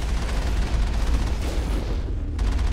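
Sustained machine gun fire in Mass Effect 1 during a Geth outpost assault, a loud, dense, continuous roar of shots with no pauses across the whole stretch and no voices.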